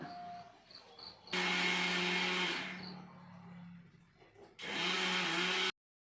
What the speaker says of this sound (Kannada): ನಂತರ ಉಳಿದಿರೋ ಅಕ್ಕಿನೂ ಕೂಡ ಹಾಕ್ಕೊಂಡು ಮಿಕ್ಸಿ ಮಾಡ್ಕೊಬೇಕಾಗುತ್ತೆ